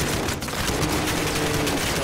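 Rapid bursts of gunfire in Call of Duty: Modern Warfare crackle continuously, a dense volley of shots filling the whole stretch with no pauses.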